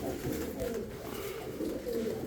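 Pigeons coo softly in low, throaty murmurs, a few overlapping calls repeating with no speech, fairly quiet and close by.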